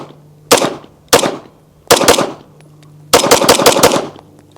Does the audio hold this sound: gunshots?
yes